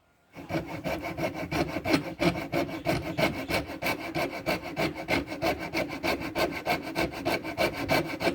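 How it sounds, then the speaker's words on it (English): A coping saw cuts a curved shape into a prepared wooden joint, with steady back-and-forth strokes that rasp close and loud in an even rhythm for the whole stretch and no talk over them. "Now we will be using a coping saw"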